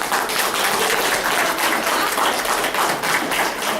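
A room of people clapping at a city council meeting, steady continuous applause with distinct hand claps, fairly loud and even from start to finish, no voices over it.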